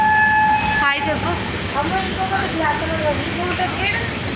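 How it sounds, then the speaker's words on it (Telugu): A special train from Cherlapalli bound for the Kumbh Mela at Prayagraj rolls along with a steady, continuous rumble, and a horn-like tone briefly rises over the running noise. "చెర్లపల్లి నుంచి స్పెషల్ ట్రైన్ ఇది"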